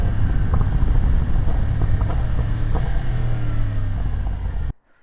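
A Yamaha R1 motorcycle pulls hard under acceleration on a wheelie control test run. The engine roar comes through loud wind buffeting and drops out abruptly at the end.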